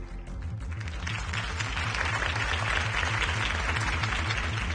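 A large crowd claps and applauds steadily after Harvey Dent's campaign speech in a video game, a sustained wash of applause over a low rhythmic music bed.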